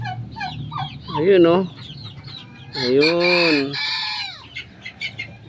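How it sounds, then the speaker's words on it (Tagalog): Chickens clucking and calling on a small farm, several close bird calls with drawn-out squawks, and brief talk in the background. "nakapagpapisa tayo ulit ng sisiw ng pabo"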